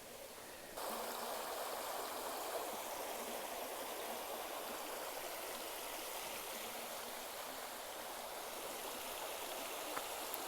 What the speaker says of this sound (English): Made it to the stream,